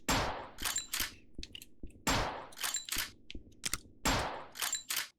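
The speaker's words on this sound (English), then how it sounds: "Holy shit, somebody's shooting me." Bursts of gunfire in the video game Psycho Patrol R come in three rapid clusters of sharp cracks with clicky transients in between, fairly loud and close, with no talk.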